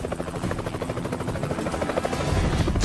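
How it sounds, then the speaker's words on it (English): A police helicopter coming in to land gives a loud, steady rotor chop with fast rhythmic beating that grows a little louder toward the end, close and with no voices. "When the helicopter was coming in to land, the crew noticed a small UFO approaching it at a high speed."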